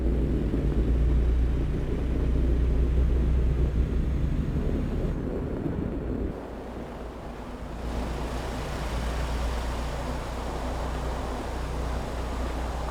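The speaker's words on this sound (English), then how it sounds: "You guys hear those sound effects for the snow? The tires on the snow?" Heavy truck tires rolling over snow in American Truck Simulator, a steady low rumble and crunching road noise that holds throughout, dipping briefly midway before continuing at a slightly lower level.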